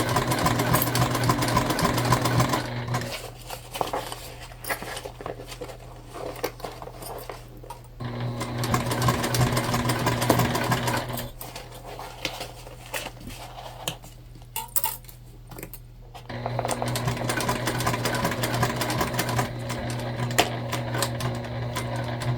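Stitching along the long sides of a tote bag, a sewing machine hums in bursts, running hard, pausing, then starting again, loud and close with faint handling clatter and no voices.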